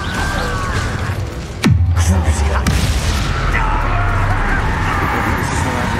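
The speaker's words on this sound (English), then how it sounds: "Incendio." An Incendio fire spell blasts in Hogwarts Legacy, a sudden loud boom with a crash that rolls into a deep rumbling tail, followed by a second lighter hit, all over a busy game ambience.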